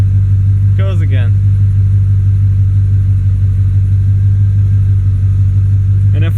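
Truck with a bad torque converter lugging its engine while being power braked, a loud, steady low drone that holds through the whole stretch, with brief bits of talk near the start and end.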